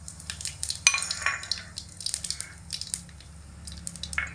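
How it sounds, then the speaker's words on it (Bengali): Bay leaves, black cumin, cracked cardamom, panch phoron and whole dried chillies dropped into hot oil left from frying vegetables, giving a soft steady sizzle with scattered crackles, spoon scrapes and small pops. "সবজি ভাজা তেলের মধ্যে এবার ফোড়নে দিয়ে দেব 2টো ছোট তেজপাতা, অল্প একটু কালো জিরে, 2টো ফাটানো এলাচ"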